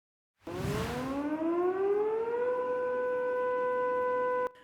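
An air raid siren in occupied Sevastopol starts abruptly and winds up from a low growl to a steady, loud, wailing tone that holds for several seconds, then cuts off sharply, with no voices over it.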